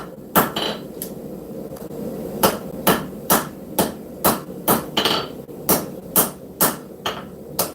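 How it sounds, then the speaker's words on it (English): A hammer strikes scrap steel held off the edge of an anvil to forge knife shoulders, giving a steady series of about a dozen sharp, ringing metallic blows at a slightly uneven pace, close and clear. "we're going to hammer in these shoulders by hanging the steel off the anvil a little"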